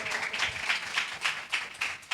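A church congregation claps hands together in steady, rhythmic unison to praise Jesus, with sharp, evenly spaced claps repeating about four times a second, moderately loud and without other sounds.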